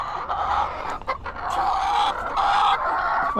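Hens cluck steadily and close by, with occasional brief crowing-like calls rising over the continuous farmyard clucking.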